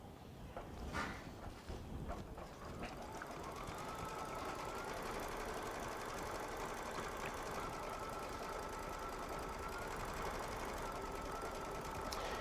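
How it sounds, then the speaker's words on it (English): A Baby Lock Solaris embroidery machine stitches out a quilting design in the hoop, a steady continuous mechanical whirr and needle rattle running alone at moderate, even loudness throughout. "I'm going to press the start button again and let it finish stitching that design out"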